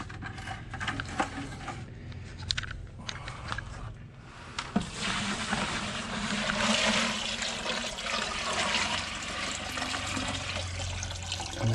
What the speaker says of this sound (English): we're going to take this water, we're going to pour that into this bucket.